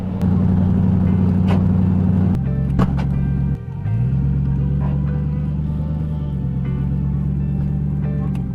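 A Lexus LS400 with newly fitted aftermarket exhaust idles with a deep, loud burbling rumble close by, dipping briefly then settling back into a steady low drone, no voices.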